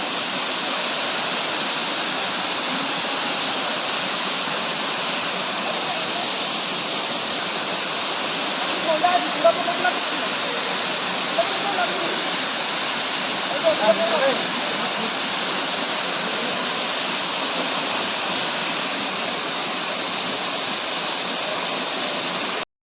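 Steady, full roar of Tenteinali waterfall near Telkoi, Kendujhar, fills the whole clip, broad and constant, with a few faint brief sounds rising above it midway.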